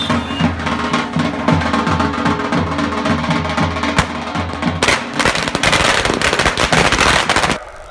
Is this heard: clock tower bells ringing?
no